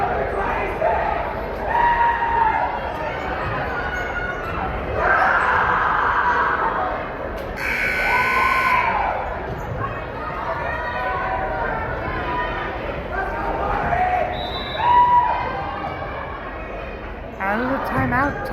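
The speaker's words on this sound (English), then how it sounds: "listen into the crowd at this timeout break" Crowd noise fills a high school gym during a timeout at a Rock Springs versus Riverton volleyball match: steady loud chatter, shouts and cheers from the stands, with a brief buzzer-like burst partway through.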